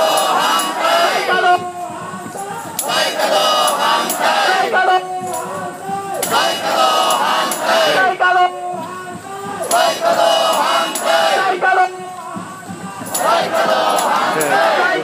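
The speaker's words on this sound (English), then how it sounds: "He's leading the group in the chant." At an anti-nuclear street protest in Tokyo, a crowd chants in call-and-response after a lead chanter, the loud rhythmic bursts repeating in roughly two-second phrases, with a dense, close throng of voices.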